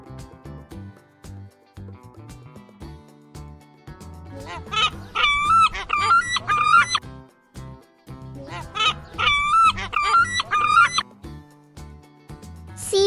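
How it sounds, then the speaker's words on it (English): A seagull gives loud, harsh, repeated calls in two bursts over a background music track, each burst a rapid series of squawking cries. "Seagull."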